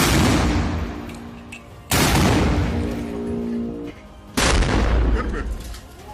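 Fighters fire rockets from a launcher in three heavy, booming blasts a couple of seconds apart, each loud and close, ringing out and slowly decaying before the next.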